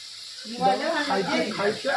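Potato sticks for homemade french fries sizzle and crackle steadily in hot oil in a home kitchen, starting after a brief quiet moment and continuing at a moderate, close level with faint voice activity around it.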